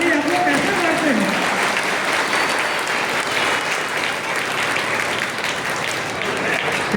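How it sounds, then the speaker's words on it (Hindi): Applause from a public audience at a political speech gathering, steady broadband clapping filling the whole clip at fairly close range, with a brief voice at the start and crowd murmur mixed in. "बोल दिए हैं कि जोरदार ताली आप लोग कैसे मारते हैं।"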